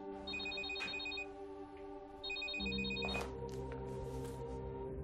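A telephone rings with an incoming call, playing a repeating electronic ringtone in two bursts with a steady hum and other household sounds underneath, fairly loud and close, with no talking.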